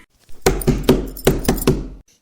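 A quick series of six firm knocks on a house door early in the morning, close and loud, grouped in two sets of three with silence before and after.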